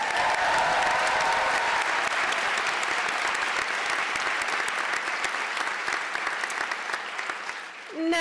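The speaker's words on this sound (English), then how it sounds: "please join me in applauding all our graduate fellowship and scholarship winners" Steady, full applause from a college convocation audience honoring graduate fellowship and scholarship winners, sustained and even for about eight seconds before tapering off at the end.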